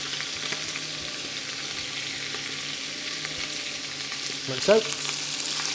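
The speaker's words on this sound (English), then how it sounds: "So in the pan, we're going to hit that with our onions" Onions fry with pork belly in a hot pan, giving a steady close sizzle that continues throughout, with a brief clatter of stirring near the end and a few quiet words spoken over it.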